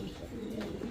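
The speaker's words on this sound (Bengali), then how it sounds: "এখানে এক জোড়া স্প্যানিশ কবুতর আছে, সুপার কোয়ালিটি" A pair of Spanish pigeons coo softly and steadily at close range in one brief, low, rolling burst, with no voices.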